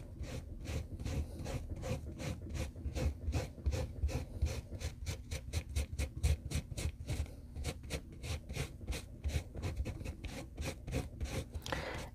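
Nupastel pigment is rubbed over paper in quick repeated back-and-forth strokes, giving a dry, scratchy scraping rhythm that continues steadily up close, with no speech.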